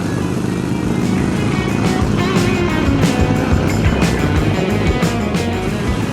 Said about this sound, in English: Damn, this bike can get really fast really quick.